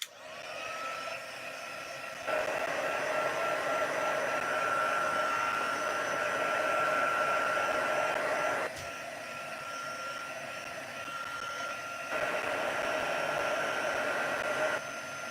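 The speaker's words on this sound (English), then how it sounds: "I'm just going to give it a wee thing with my heat gun just to make sure" A heat gun dries stamped ink before heat embossing, a steady close-up blowing roar that runs for the whole stretch and shifts slightly in pitch and strength a few times, with no talk.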